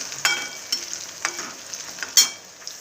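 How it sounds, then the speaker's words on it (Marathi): Onion frying in a pan as it browns for a tomato chutney: a soft sizzle under scattered sharp clicks of a spoon against the pan, the last one loudest. Nobody speaks. "चांगला भाजून घ्यायचा कांदा चांगला ब्राऊन होऊ द्यायचा"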